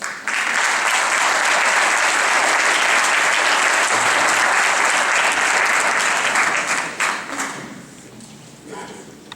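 Audience applause welcoming speaker Garo Ghazarian, a full, sustained roar of clapping from a large crowd in a hall that holds steady for several seconds and then tapers off into a few scattered claps.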